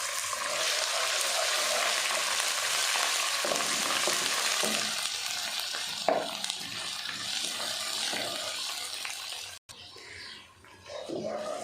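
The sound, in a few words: ginger garlic paste frying with onions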